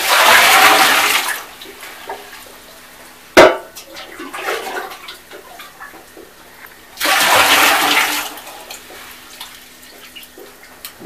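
Hot and cold water mixed for washing in an off-grid wood-stove sauna: two loud bursts of pouring and splashing separated by a sharp knock and quieter dripping and sloshing, close by with no talking.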